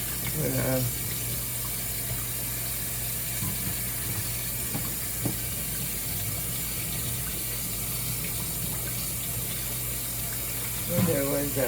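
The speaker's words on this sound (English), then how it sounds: "Let me rinse these real quick." Water runs steadily from a kitchen tap into a sink while items are rinsed, a continuous close hiss and splash with occasional clinks of dishes, and a voice speaking briefly at the start and end.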